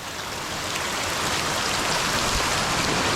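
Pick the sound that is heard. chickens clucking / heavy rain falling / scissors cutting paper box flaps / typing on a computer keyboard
heavy rain falling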